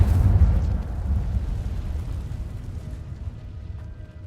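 A deep, roaring burst of flame from the Incendio fire spell in Hogwarts Legacy erupts loudly, then rumbles and fades over a few seconds.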